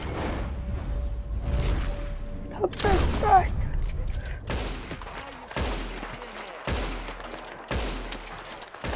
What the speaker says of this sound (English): Shoot the shit out of it! Keep shooting!